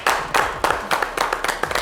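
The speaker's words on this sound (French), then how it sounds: "qu'on va applaudir également." Studio audience on a French-language talk show clapping in welcome, a sparse group with distinct, uneven bursts of hand claps that repeat close and fairly loud.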